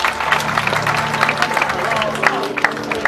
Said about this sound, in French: on applaudit madame très fort.